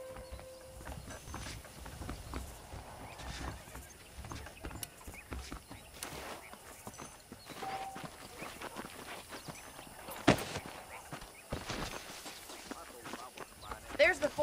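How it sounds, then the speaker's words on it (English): Horse hooves clip-clop at a walking pace in the Red Dead Redemption western game, a soft, steady patter sitting under ambient game sounds with talking throughout. "The horses are saddled up over here."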